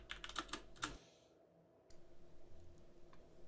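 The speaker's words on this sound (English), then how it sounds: "It's a pretty good sounding keyboard." Keys clatter on a Motospeed GK82 mechanical keyboard with brown switches: a fast burst of close, crisp clicks, then a pause and faint scattered taps.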